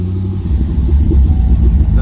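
A 2006 Chevrolet Corvette C6 engine rumbles close by in a steady low drone that swells slightly as it revs, with a faint voice in the background.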